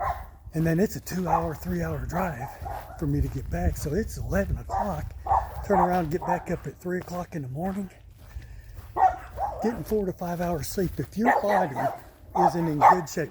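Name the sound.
dogs barking in a yard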